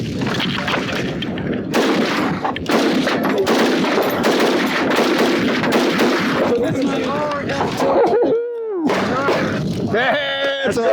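Rapid gunshots from a Franklin Armory firearm at an outdoor shooting range, a loud sustained barrage of close, overlapping reports, with people talking over and between the shots.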